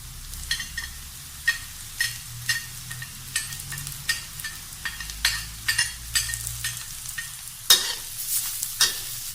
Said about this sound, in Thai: เราจะเจียวเห็ดหอมเราให้เหลืองทองเลยนะครับ หลังจากนั้นเราจะตามด้วย รากผักชีกับพริกไทยนะครับ